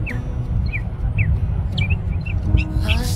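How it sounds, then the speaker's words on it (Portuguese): A small bird sings outdoors in short, bright chirps and twitters repeating every fraction of a second, moderately near, over a low background rumble of passing traffic. "Passarinho bem na pontinha ali, ó, cantando"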